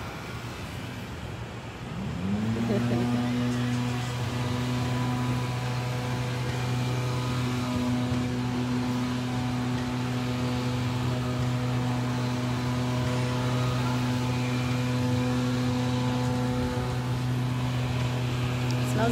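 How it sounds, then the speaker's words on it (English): A gasoline-powered blower starts up and runs loud and steady nearby, holding a constant engine drone throughout with a faint voice underneath. "Smells like gasoline over here now. From this blower?"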